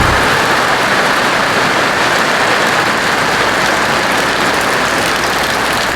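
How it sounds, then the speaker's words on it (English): Steady heavy rain pours down in a dense, even hiss, loud and close, with no talk and no letup through the whole stretch. "it's raining"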